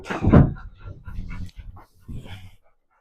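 Several puppies bark and whimper close by, loud overlapping yelps and yips over about three seconds that fade out at the end.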